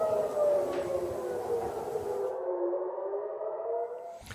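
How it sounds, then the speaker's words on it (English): An air raid siren sounds across Tel Aviv, a wavering wail that carries loudly and then thins out toward the end, with no talking over it. "in Tel Aviv, where sirens have been sounding"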